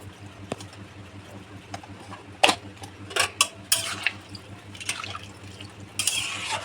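Spoon scraping and knocking inside a pot as salted niramish shama rice khichuri is stirred, several uneven clatters and a wet shuffling sound, close by, with no voices.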